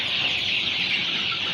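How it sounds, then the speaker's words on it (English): A flock of broiler chickens reared for meat on a poultry farm, making a dense, continuous chorus of overlapping clucks and chirps that stays fairly even and moderately loud throughout; no talking. "These are broiler birds"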